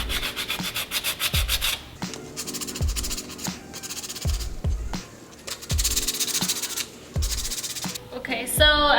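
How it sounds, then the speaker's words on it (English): Sanding block rubbed over a glitter epoxy tumbler, knocking down small lumps: repeated rough scraping strokes in bursts, fairly close and steady, separated by brief pauses and light knocks. "just grab your sanding block and then just sand the little lumps away"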